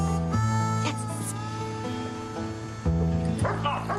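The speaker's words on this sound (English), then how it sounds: "Now, Johnny, you come in here and get your dog." A dog barks and yips indoors in a house in a few sharp bursts, loud and close, with a steady hum of the room underneath.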